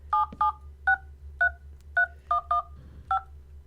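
Telephone keypad tones in Minecraft Agrarian Skies 2: eight or so crisp dual-tone beeps in an uneven rhythm, loud and close, with a faint low hum beneath.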